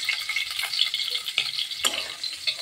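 Prawns fry lightly in oil in a wok, giving a soft, steady hiss with a few faint clicks of a utensil, close but quiet, and nobody speaks.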